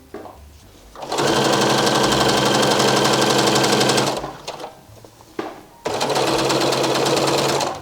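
A sewing machine shirring fabric runs in two loud, continuous bursts of rapid mechanical whirring, with a short quiet gap and some faint handling sounds between them.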